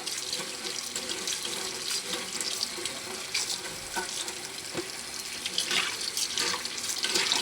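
Tap water runs steadily into a sink as aquarium items are rinsed and washed, a continuous close splashing rush with small clatters, no voices.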